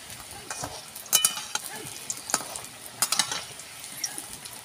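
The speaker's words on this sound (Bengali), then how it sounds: "আমি আলুগুলো লাল লাল করে ভেজে নিচ্ছি।" Potatoes fry in hot oil in a pot over a village stove for chicken biryani, a steady sizzle with occasional scraping and stirring clinks, close and without speech.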